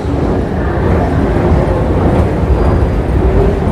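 A train in the Netherlands carries on with a continuous loud rumble and hum of wheels and motion, steady and unbroken for the whole stretch.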